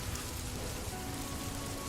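Steady rain falls through a rainy night, a dense, even hiss of drops on surfaces with no break and no voices.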